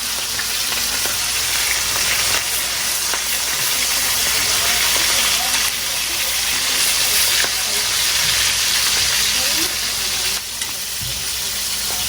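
Food fries in a pan with a loud, continuous sizzling hiss and crackle, close up and unbroken throughout.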